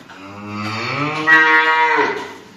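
A cow moos in one long, loud, close call with a strong harmonic tone that rises in pitch partway through and then fades, recorded on a farm while cattle are being let outside.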